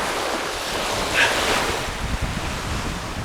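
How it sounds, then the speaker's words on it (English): Sea waves washing onto a beach on the Fife coast as the tide comes in, a loud steady whooshing surf mixed with heavy wind buffeting the microphone, close and continuous with no talk. "the sea's making whooshing noises. I think the tide's coming in"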